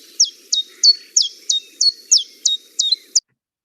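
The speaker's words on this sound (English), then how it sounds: "and it's the chiffchaff." Chiffchaff singing in early spring, a run of about nine quick, bright, evenly spaced chirping notes in a steady repeated rhythm, clear and fairly close, with no other sound behind it and silence at the end.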